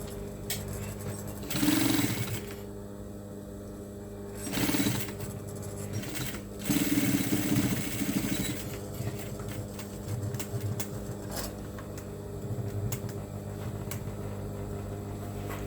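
Sewing machine stitching binding onto a fabric table mat, running in steady mechanical bursts with short pauses, close and fairly loud, with a continuous motor hum underneath.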